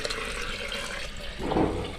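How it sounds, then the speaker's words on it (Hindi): Water drains from soaked black chickpeas, a continuous pouring and splashing wash that swells louder near the end, close by with no voices. "अब हम इसका पानी अलग कर देंगे।"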